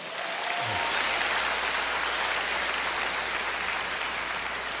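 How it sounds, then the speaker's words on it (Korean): A congregation at a prayer meeting claps steadily in a dense, sustained burst of applause that fills the whole stretch without pause. "어딘가 숨어있을 그분들을 위해서 박수 한번 드리세요"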